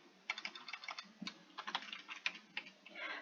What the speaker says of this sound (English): we're going to type in our information here